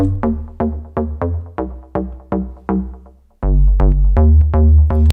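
Plucky synthesizer bass notes in a steady repeating pattern, then shifting to a sustained, heavier droning bass tone near the end, with no voices.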